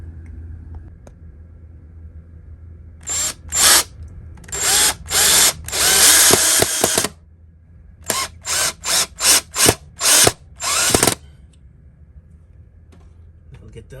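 Power drill driving screws into a mount, two clusters of short loud whirring bursts, one around four seconds long and a second of rapid pulsed trigger squeezes, with quiet gaps between.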